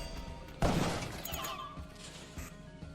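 An explosion bursts in the Spelunky video game, a sudden sharp crash that decays into a rumbling tail, followed by a couple of softer thuds.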